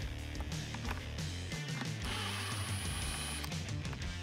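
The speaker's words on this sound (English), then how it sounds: "If you're using an impact gun like I am, make sure it's on its lowest setting and you're not stripping the bolts." A low-setting impact gun rattles in short bursts while backing out T20 Torx bolts from the MAF sensor on a 2005-2009 Mustang GT, with close, dense mechanical hammering throughout.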